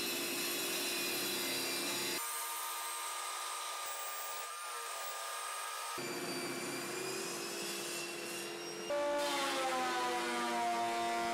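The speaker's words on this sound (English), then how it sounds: "cut the wood for the vise's wooden jaws" A power saw cuts wood for a workbench vise's wooden jaws, with a loud, steady whining drone that shifts pitch as the cut changes and swells louder near the end, with no voices.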